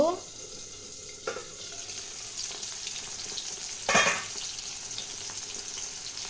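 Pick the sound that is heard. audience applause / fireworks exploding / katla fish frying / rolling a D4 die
katla fish frying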